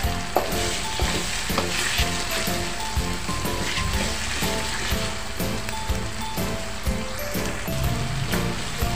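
Spices stir-fried in a pan for Balinese-style betutu chicken, a steady loud sizzle crackling throughout with a tonal backing underneath and no talking.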